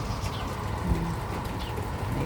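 Pigeons or doves coo softly near a home balcony on a rainy day, a couple of low hooting calls rising over a steady wash of background noise.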